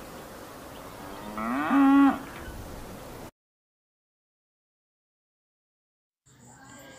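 A single cow moos loudly over a low outdoor background, then the sound cuts to silence before faint ambience returns.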